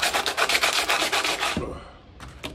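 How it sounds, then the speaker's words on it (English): Sandpaper sanding a metal car part during a BMW E36 differential upgrade, a series of rapid rhythmic rasping strokes, then a pause and a couple of lighter scrapes, close and clear. "So yeah, you can use sandpaper, just sand it down."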